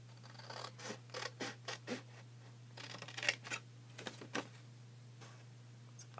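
Scissors snip through card to cut flaps for a 3D box card, a quick series of close, crisp cuts and scrapes in uneven bursts over a quiet background hum.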